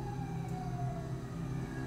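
Ambulance siren in the video game GTA V, a steady wailing tone held throughout over a dense, constant engine-like hum, moderately loud and without talk.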